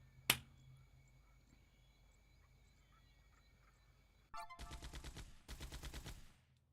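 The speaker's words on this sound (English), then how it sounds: "I got fireworks as well." Fireworks go off in a mining video game: a sharp single pop first, then after a quiet stretch two dense bursts of rapid crackling, fairly faint overall.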